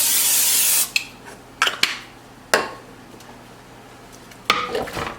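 Cooking spray hisses in a steady burst for about a second into a skillet, followed by a few sharp clanks and light knocks of pans and utensils, with no talking.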